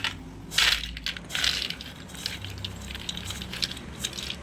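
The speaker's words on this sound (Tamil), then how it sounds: "கலகலன்னு சவுண்டு கேட்குது பாருங்கள்" Crisp fried Bombay lakdi, a hot and sweet snack, rattles and crunches in short bright bursts close by, loudest at first and then settling into lighter scattered clatter.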